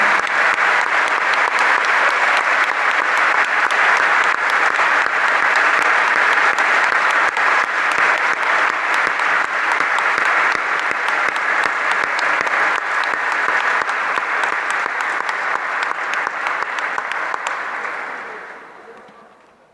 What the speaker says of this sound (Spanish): Dá um aplauso de agradecimento pelas esposas,